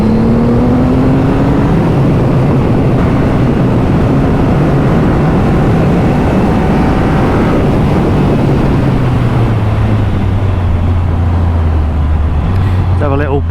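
A 2022 Triumph Rocket 3 R motorcycle is underway, its engine giving a loud, steady drone through the whole stretch, with pitch shifting as it accelerates and settles, mixed with heavy wind rush.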